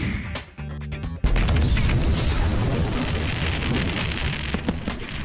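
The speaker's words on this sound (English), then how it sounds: "A mixture of oxidizer and metallic fuel, aluminum flash powder is what makes firecrackers explode and produces a heck of a bang" A sharp, heavy blast from an aluminum flash powder charge, a mix of oxidizer and metallic fuel, hits hard after a brief moment of background noise and gives way to a long, dense roar of debris and rumble.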